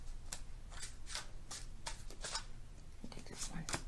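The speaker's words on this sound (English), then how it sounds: "We'll give them another shuffle and see what we do with these." A deck of tarot cards is shuffled by hand in a run of crisp, rapid riffling bursts, close and fairly loud against a soft background rustle.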